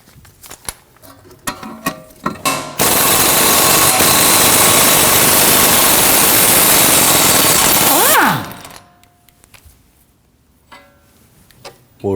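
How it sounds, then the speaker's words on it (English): A pneumatic impact tool loosens the 17 mm strut pinch bolt on a Honda Pilot's front knuckle. It rattles loud and close for about five seconds between scattered clicks and clanks of tools, and nobody speaks. "We can go ahead and remove that with a 17 millimeter."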